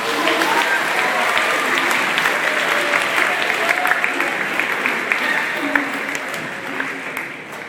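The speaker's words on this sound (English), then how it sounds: "So give our volunteers a round of applause." Loud, sustained applause from a crowd, dense clapping that holds steady throughout before tapering slightly at the end.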